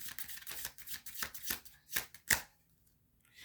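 Tarot cards shuffled in a series of close, brisk riffles that thin out into a couple of sharp slaps as cards are drawn, then near quiet.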